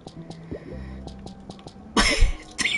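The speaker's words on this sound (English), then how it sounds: "I was trying not to cough!" A cough bursts out close and loud after a quiet stretch of soft background sound, with a second short cough-like burst following a moment later.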